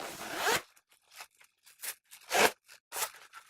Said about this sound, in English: You'll notice there's a vertical zipper on this side as well.